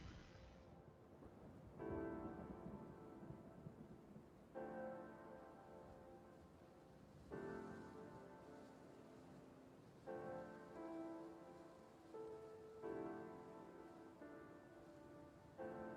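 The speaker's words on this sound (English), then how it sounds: "Definitely like the lo-fi that has the rain in it." Rain and thunder sit within a lo-fi music track. A steady, faint wash of rain runs throughout, with soft low rumbles swelling every couple of seconds and no voices.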